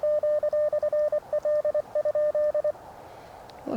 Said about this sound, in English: What I'm concerned about is whether you'll be able to hear the side tone on the radio or not